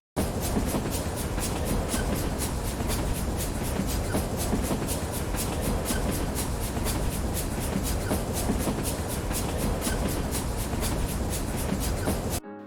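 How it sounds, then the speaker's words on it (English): A steady, rhythmic chuffing of a steam train repeats evenly and loudly without pause, like a continuous mechanical loop. "Now I've got a pretty decent loop of a steam train."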